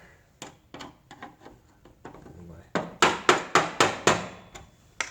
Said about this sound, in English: Take my little hammer.